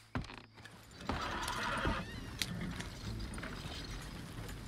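Horses in a Wild West video game whinny and neigh amid clip-clopping hooves and clanking mechanical sounds, with a busy outdoor ambience throughout.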